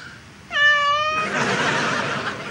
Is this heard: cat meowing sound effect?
yes